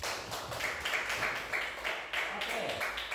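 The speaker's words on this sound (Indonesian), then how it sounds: "Tepuk tangan dulu buat saya ya." A class of students applauds together, a dense, steady wash of clapping with slight surges, heard close and loud, mixed with a voice talking over it.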